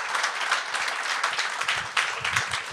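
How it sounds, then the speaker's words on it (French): Audience applause breaks out in a podcast studio, a short burst of many hands clapping steadily, with a voice or two faintly mixed in underneath. "C'est ça, on peut l'applaudir, je pense"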